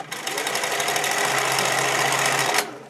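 A sewing machine runs steadily through stretchy swimwear fabric at a keyhole-top neckline, a close continuous whirring stitch that holds for over two seconds and then stops abruptly; nobody speaks.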